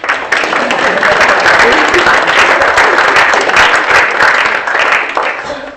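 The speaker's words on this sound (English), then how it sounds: "Okay, let's clap hands for my speech." Audience at a low-tech innovation prize-giving ceremony clapping after a speech, dense loud applause starting suddenly and sustained almost throughout before easing near the end.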